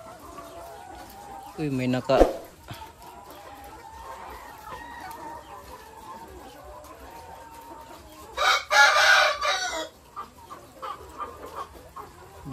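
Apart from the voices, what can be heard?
chickens clucking and crowing at egg layer farm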